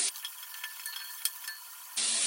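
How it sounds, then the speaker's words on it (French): Onions and carrots sizzle softly in a pan for rabbit with mustard, a steady faint hiss with a few light stirring clicks, louder bursts at the start and end. "tes oignons et tes carottes, il y en a une qui s'est échappée, tu les fais un petit peu revenir comme ça."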